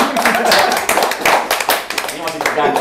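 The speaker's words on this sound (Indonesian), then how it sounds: "Tepuk tangan dong." A group applauds with brisk, dense clapping for a few seconds, fairly close and loud, with some cheering voices mixed in.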